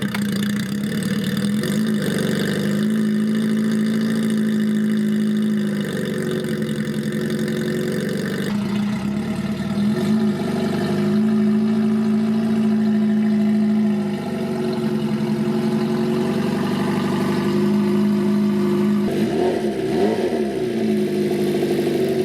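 A Honda CB350Four cafe racer with a modified exhaust baffle idles close by with a raspy drone, then revs up in repeated blips and falls back to idle.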